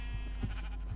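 A Minecraft sheep bleats in a short burst inside the video game, close and clear over a low steady background hum.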